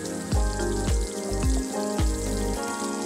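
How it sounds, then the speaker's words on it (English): Beef tenderloins sear in a pan with rosemary and garlic, a loud continuous sizzle and crackle with a few heavier pops and thumps standing out every half second or so, close and with no talk. "We sear them until they get a nice golden crust"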